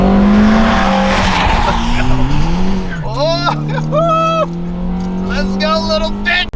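A 2009 Honda Fit with a manual gearbox driven hard on a race track, engine revving and tires squealing through a skid, rising and falling pitches with gear changes under music and talk.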